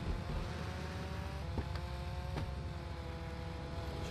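Engine of a car in the video game GTA Vice City, a steady near hum with a few faint clicks, running alone.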